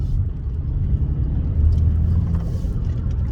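A BMW 650i with a 4.4 V8 twin turbo driving a winding road trip route, heard from inside as a steady deep engine rumble and road drone, constant and close with no speech.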